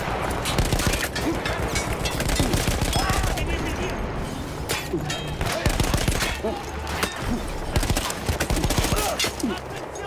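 A mounted machine gun blazes away in a Battlefield 1 campaign battle against Austro-Hungarian troops, dense sustained automatic bursts with booming impacts and chaotic battlefield noise, loud and continuous, with faint voices mixed in.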